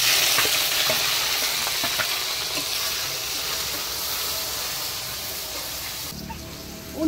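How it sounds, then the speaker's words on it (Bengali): Chopped onions sizzle steadily in a pan over a wood-fired clay stove with whole garam masala, cumin and bay leaves, a continuous close frying hiss with occasional stirring scrapes and no talking. "এবারে দিয়ে দেবো কুচনো পেঁয়াজগুলো"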